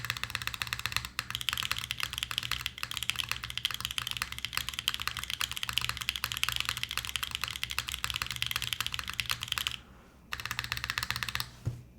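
Steady, fast typing on a mechanical keyboard fitted with GMK stabilizers, dense clacky keystrokes running nearly continuously, close and clear, with a brief pause near the end before the typing resumes.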